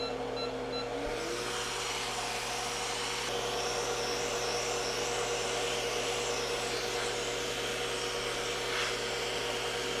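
Hot air rework station blowing with its nozzle removed, heating a thick circuit board on a Microsoft Surface 1796 after flux is applied; a steady, even rushing hiss runs throughout, close and unbroken, with no voices.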